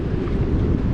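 Wind blusters against the microphone on a trail in the Tetons near Death Canyon, a loud, low rumbling buffet that fills the whole brief moment.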